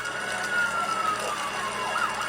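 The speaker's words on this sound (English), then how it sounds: "they awake to sounds of sirens and the smell of smoke" Emergency sirens wail in the distance during the 1980 MGM Grand Hotel fire, over a steady hum of traffic and city noise, their rising and falling tones faint but continuous.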